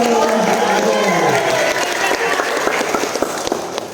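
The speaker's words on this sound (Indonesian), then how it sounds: "Berikan tepuk tangan yang meriah kepada semua tim yang ada." Audience at a university accounting competition final applauding the teams, loud dense clapping with some cheering that gradually thins out over about four seconds, with crowd voices underneath.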